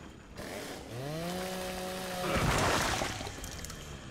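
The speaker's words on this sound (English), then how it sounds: "In the hopes that one of them comes out so I can chainsaw his ass." Video game chainsaw revving up with a rising engine whine, then a harsh ripping cut that swells louder before fading, played with no talk over it.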